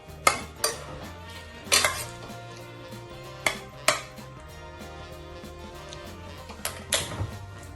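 Metal clanks and knocks sound as a pressure cooker is opened and tomato, okra and water are added, sharp isolated clatters spaced apart over a quiet kitchen background.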